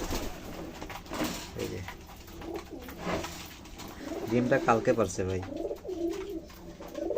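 Pigeons in a loft, close throaty cooing in rolling bursts that build toward the end, heard under someone talking.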